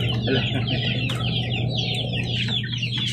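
Chickens and small chicks cluck and cheep steadily throughout, a dense, close chorus of poultry calls over a constant low hum, with no talking.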